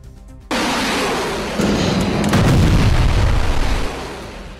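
Israeli strikes on Hamas positions in Gaza bring a sudden heavy blast followed by a sustained rumbling roar, with another surge of explosion noise layered in before slowly fading.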